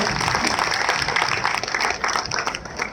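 A crowd at a political rally stage event claps loudly and continuously, a dense, close wall of hand claps held at steady volume for the full three seconds, with no voices on top.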